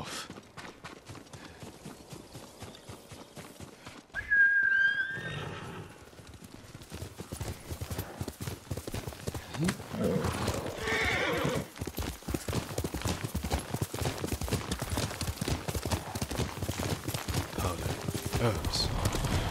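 In the Ghost of Tsushima video game, a horse gives a brief whinny and then steady clip-clopping hooves grow louder and continue to the end, with a voice speaking briefly.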